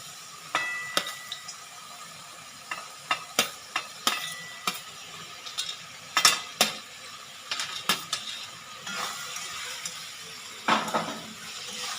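Fried eggplant and potato stir-fried with spices in a pan, with repeated sharp clinks and scrapes of a spatula on metal at an irregular rhythm over a soft sizzle, up close and without talk.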